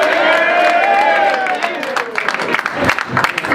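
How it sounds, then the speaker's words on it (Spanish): An audience at a Pint of Science evening in Ciudad Real claps along to keep the beat, loose rhythmic claps following a sustained voice, with the crowd fairly close. "Una palmas o algo para marcar."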